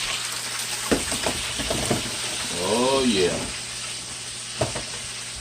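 Bacon-wrapped cheesesteak meatloaf sizzling hot just out of the oven, a steady hiss of frying fat running throughout with a few soft clicks and knocks, while a person speaks briefly over it.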